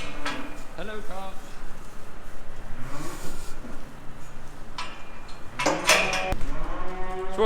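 Beef cattle on a research farm in winter moo several times, loud and close, with lowing calls toward the start and end, while a person talks nearby between the calls.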